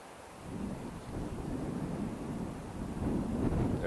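Wind gusting through trees in a cold Minnesota winter, blowing snow down: a steady, close rushing roar with heavy microphone buffeting that swells slightly toward the end.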